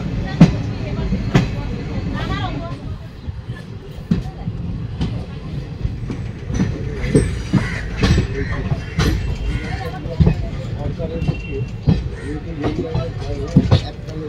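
An intercity express train runs on the Kolkata to New Jalpaiguri line, heard from inside a chair car with a continuous low rumble and sharp rhythmic wheel clacks over rail joints, while passengers talk in the background.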